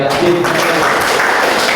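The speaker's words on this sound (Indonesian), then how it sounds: "Tepuk tangan buat kelompok 2" An audience claps for a presenting group at a classroom session, a short burst of dense, close applause with faint talk mixed in.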